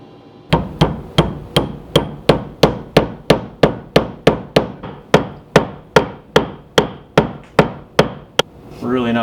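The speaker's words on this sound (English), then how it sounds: "Just try to hammer that in." A wooden wedge is driven into the split top of a replacement wood hammer handle with about twenty steady, evenly spaced hammer blows, close and loud, each a sharp crack with a short ring.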